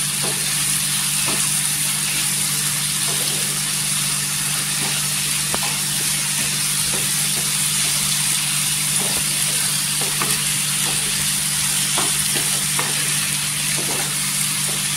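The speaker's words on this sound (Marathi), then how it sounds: "एक 2 मिनिटं आहे ना तेलावर परतून घ्यायचं." Onion and tomato sauté in oil for dried bombay duck masala, with a steady close sizzle throughout, scattered faint stirring clicks and a constant low hum in the background.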